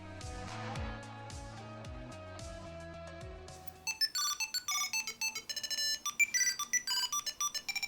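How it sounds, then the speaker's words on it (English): A loud electronic ringtone sounds from a Tile Pro tracker via its phone app, with a melodic tone in the first half, then a quick run of bright repeated beeps and chirps. "And you can hear the ringtone. It's pretty loud."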